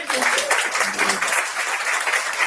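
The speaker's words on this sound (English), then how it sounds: "So if we could just give a round of applause to Stuart." Audience applause for an author in a basement event room, a full steady round of clapping from a small crowd, with a voice faintly audible alongside.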